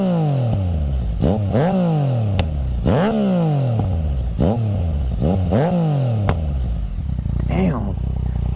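A 2016 Yamaha FZ-09/MT-09 motorcycle is revved repeatedly, its exhaust rising and falling in sharp throttle blips with loud popping and crackling on the overrun, close and dominant throughout with no voices.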